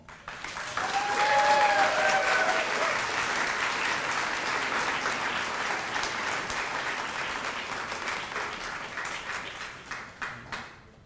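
A large audience at a graduation ceremony applauds loudly and continuously, the clapping swelling quickly and then gradually thinning toward the end.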